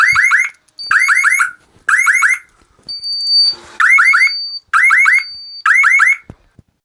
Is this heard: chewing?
no